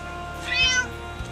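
A stray cat in a backyard gives a single clear, close meow lasting under half a second amid a quiet hum.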